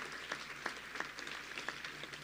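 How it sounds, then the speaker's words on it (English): Faint, distant applause from an audience at a Choice Neighborhoods grant ceremony, a thin steady patter of scattered claps with a low hum underneath. "Give yourselves a round of applause for the fantastic work that is happening in this area"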